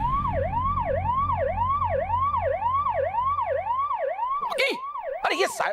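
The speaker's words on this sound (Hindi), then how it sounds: "अरे ये सर पे सायरन लगा के घर में क्यों घूम रहा है भाई?" A siren worn on someone's head wails indoors in a home, its rising-and-falling electronic sweep repeating steadily and loudly for several seconds before it cuts off into brief rustling noise.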